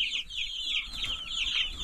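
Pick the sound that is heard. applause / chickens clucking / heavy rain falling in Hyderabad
chickens clucking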